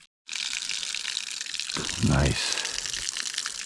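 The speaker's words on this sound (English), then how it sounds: "I'm gonna fill up my water bag and see how many of my containers I can fill up." Water from a flowing stream pours into a water bag during a bikepacking trip in Arizona, a steady broadband rush and gurgle with a deeper gush swelling briefly midway, close up, while a voice speaks a single word.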